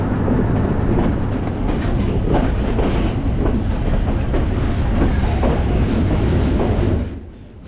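A Sri Lankan sleeper train runs along the tracks near Ella, its carriages rumbling loudly and steadily with wheel clatter close by before the noise drops away abruptly at the end.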